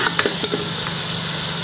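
A spoon stirs chicken jalfrezi in a sizzling pan after soy sauce goes in, with a steady close frying hiss and a few brief scraping knocks near the start.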